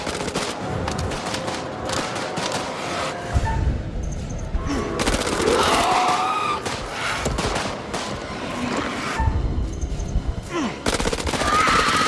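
Video game gunfire in GTA San Andreas, loud bursts of shots and rapid automatic fire in irregular volleys with a dense layer of game noise and music underneath, running steadily throughout.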